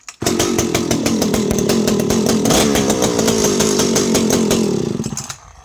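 A vintage Italian Alpina 070S 70cc chainsaw, a later Tensmatic anti-vibe model with a sight glass, runs loud and close with a steady, buzzing two-stroke snarl for about five seconds before cutting off.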